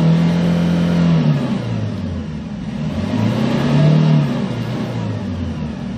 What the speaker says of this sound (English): Gonna accelerate. Show you the RPM.